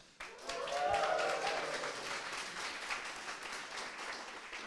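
An audience at an in-person university computing society tech talk breaks into applause and cheering that starts sharply, peaks quickly and then slowly fades. The clapping comes from a room full of people, with a few scattered whoops.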